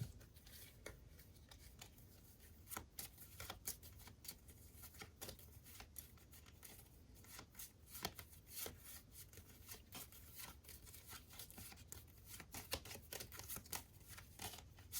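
Cards being shuffled to set the marching order in the Bardsung board game, a quiet, close run of repeated riffling and rubbing snaps with no talk.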